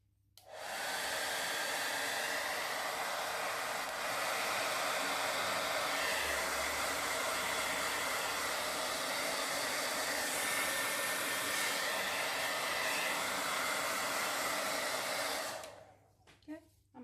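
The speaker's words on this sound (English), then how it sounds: "Okay, here comes the hairdryer." A hair dryer blows over poured gel stain with a continuous loud whoosh and motor whine for about fifteen seconds, then switches off, leaving near silence.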